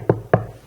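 Two sharp knocks on a wooden door land about a quarter second apart, close and fairly loud, each with a short hollow ring, and no speech over them.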